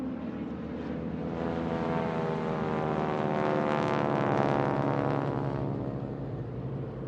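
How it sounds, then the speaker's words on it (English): A steady airplane engine drones at night outside Bastogne, a continuous low hum that swells slightly in the middle, with no voices. "Outside, a plane's engine purrs."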